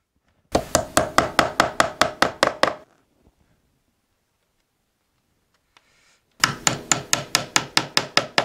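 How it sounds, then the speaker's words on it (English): Upholstery strip studs are hammered along the bottom of a footstool in two quick bursts of about eight sharp, close, evenly spaced taps each, separated by a few seconds of near silence. "What we're doing now, guys, we're putting strip studs on just to give the bottom a nice finish."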